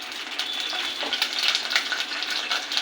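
Curry leaves and cumin seeds sizzle in hot oil in a pan, a steady, bright crackling hiss with small pops throughout, close and continuous.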